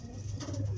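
A racing pigeon gives a short, low, soft coo, close by and alone.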